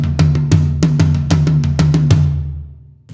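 Two toms, high floor tom and high rack tom, alternate in a steady pattern, each stroke a slightly doubled flam with a booming low ring, played close and loud before decaying away.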